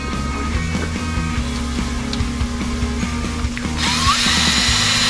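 A power tool with a 3/16 bit drives out motorcycle primary cover bolts, a steady whirring drone with small clicks, jumping to a higher, brighter pitch near the end.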